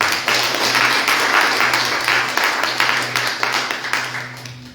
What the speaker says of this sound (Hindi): संजय भाई के लिए, मृदुल सिस्टर के लिए जोरदार ताली बजाएं।